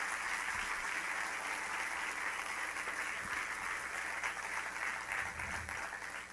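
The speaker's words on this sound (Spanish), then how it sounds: "quisiera que lo recibamos con un fuerte aplauso de bienvenida" A church congregation breaks into a strong, sustained round of welcoming applause for a pastor, dense and even from start to finish, with no voices over it.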